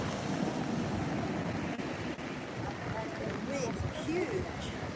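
Big surf during Hurricane Dorian at Flagler Beach rumbles in a constant wash of breaking waves mixed with wind buffeting the microphone, with faint voices and a few chirps faintly in the background.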